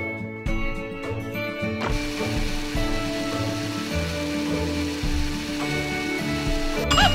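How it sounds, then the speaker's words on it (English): A blender whirs in a smoothie-making video game, a continuous mechanical grinding buzz starting after a few short clicks and running steadily, with music over it. "Plum Pudding's Blast Blender makes this step even easier. Keep blending until the mixture is nice and smooth."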